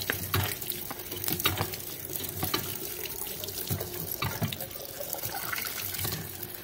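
Water runs steadily from a tap into a plastic jerrycan, a continuous splashing, gurgling rush outdoors with small irregular spatters, close and fairly loud throughout.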